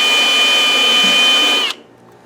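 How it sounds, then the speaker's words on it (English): A power tool whines loud and steady while scuffing a leaking plastic fuel cell, then cuts off abruptly near the end and leaves only faint room noise. "I'm scuffing this thing up because I found that the stupid thing has a hole in it."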